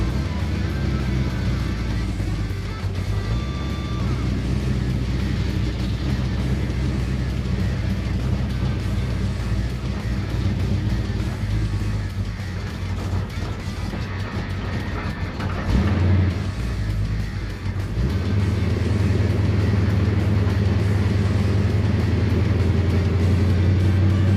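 A 1957 Chevy with manual steering rumbles steadily while backing up, its engine a loud, continuous low drone throughout with a brief dip and surge partway through.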